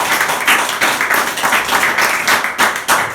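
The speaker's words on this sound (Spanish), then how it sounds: "Denle otro aplauso." A church congregation claps in loud, uneven bursts, the rhythmic slaps swelling and dipping close by, with a faint voice underneath.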